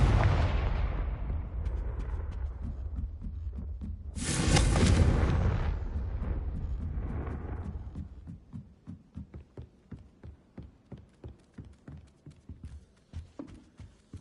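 Blasts from the Confringo blasting spell in a game: a long rumbling explosion with a bright burst midway, fading into a run of evenly spaced thuds.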